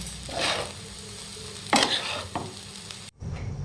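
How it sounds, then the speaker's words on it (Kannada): Egg tawa pulao is stirred and mixed in a pan over a low flame, with soft sizzling and several distinct scraping strokes of the spoon, close and clear, with a short gap near the end. "ಇದನ್ನ ಲೋ ಫ್ಲೇಮ್ ಒಳಗೆ ಈ ಥರ ಮಿಕ್ಸ್ ಮಾಡ್ಕೊತಾನ ಒಂದರಿಂದ ಒಂದೂವರೆ ನಿಮಿಷಗಳ ಕಾಲ ಬಿಸಿ ಮಾಡ್ಕೊಳ್ಳೋಣ್ರಿ"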